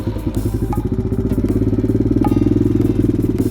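A lightweight supermoto's single-cylinder engine runs close and loud with a fast, even thumping pulse and a mechanical clatter, holding steady without voices.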